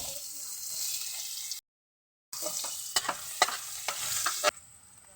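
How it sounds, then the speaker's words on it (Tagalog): Ginger and onion sauté in a hot pan for scabetching dried fish, giving a steady loud sizzle with sharp clicks from stirring. A short full silence breaks it before the frying picks up again. "Kailangan na natin tong gisahin nating mga sangkap"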